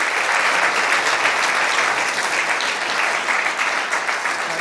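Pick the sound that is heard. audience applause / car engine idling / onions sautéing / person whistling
audience applause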